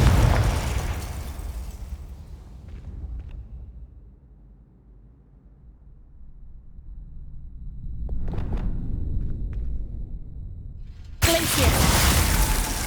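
Confringo fire spell in Hogwarts Legacy: a heavy explosive burst opens, fades into a low rumble with scattered crackles, then a second loud blast erupts near the end.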